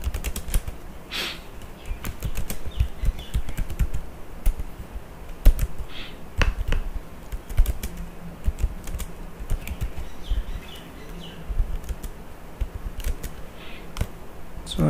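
Java code being typed on a computer keyboard makes steady close clicking, with irregular bursts of keystrokes and occasional heavier taps from the space or enter key.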